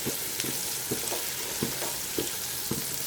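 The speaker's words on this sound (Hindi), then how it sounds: "अब हम इसके अंदर लहसुन अदरक का पेस्ट ऐड करेंगे, इसको भी हम हल्का सा फ्राई करेंगे" Close, steady sizzling of garlic ginger paste frying in a hot pan, with occasional soft scraping knocks of stirring throughout.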